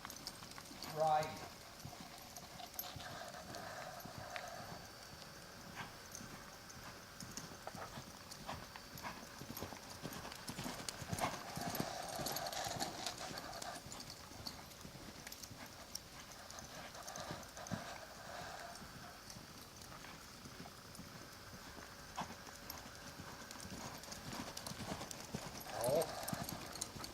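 Clip-clop of a horse's hooves, the mare ridden without slick shoes, keeps up a steady walking rhythm at moderate distance while a rider talks throughout over faint outdoor background noise.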